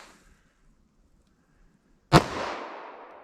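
A single sharp 9mm pistol shot firing a 115 grain bullet cracks out loudly after a stretch of near silence, followed by a long fading echo.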